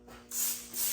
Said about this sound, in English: Then we spray this on.